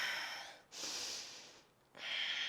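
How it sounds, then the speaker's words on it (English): Close sniffles picked up by a microphone, two or three sharp breathy nasal inhales in quick succession, alone with no talking. "I'm sorry if you're hearing my sniffles through the mic."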